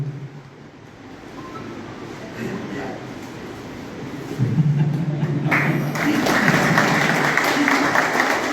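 A crowd claps at a flag-off ceremony for an awareness ride, the applause rising from a murmur into steady, moderately loud clapping mixed with voices.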